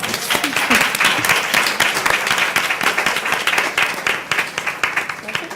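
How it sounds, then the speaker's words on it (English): A crowd at a school board meeting gives a sustained round of applause, with dense, close clapping that holds steady for several seconds and then thins slightly as voices murmur underneath. "That deserves a round of applause."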